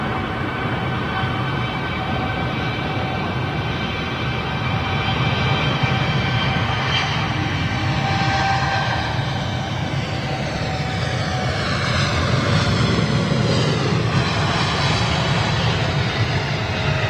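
A BOAC Boeing 747 jet airliner takes off, a continuous loud engine roar with a slowly rising whine, steady and sustained from start to finish.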